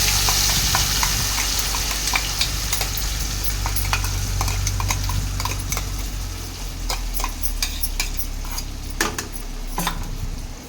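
Coconut-mustard spice paste sizzles and spatters steadily in a pan, with a bay leaf in the oil, while a utensil stirs and taps against the metal in scattered clicks throughout, close and fairly loud.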